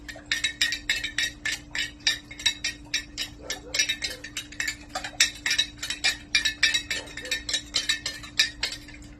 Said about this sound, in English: Just stir it up until it goes clear.